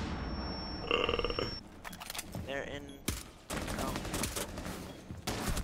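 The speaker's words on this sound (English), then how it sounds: "Do not see me firing my SMG 11." SMG 11 submachine gun fire in a first-person shooter game, heard as several sharp bursts of rapid shots mixed with other game sounds.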